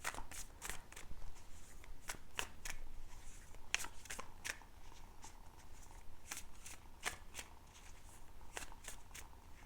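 Oracle message cards being shuffled by hand, with repeated crisp riffling flicks and slaps in quick irregular bursts, close and fairly quiet, with no talking.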